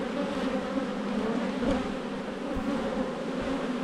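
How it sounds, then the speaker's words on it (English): Honeybees hum in a dense, continuous mass at close range during a hive inspection, a steady drone with no speech over it. "big mass of bees down there"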